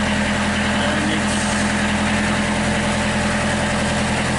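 Narrowboat diesel engine idling slightly fast, a steady close low-pitched drone with constant vibration throughout, no talk over it.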